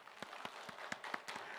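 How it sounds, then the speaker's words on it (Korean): Sparse, fairly quiet clapping from a church congregation during a Sunday worship service, with individual claps spaced irregularly over a brief moment. "한번 우리 하나님의 영광의 박수 한번 올려요"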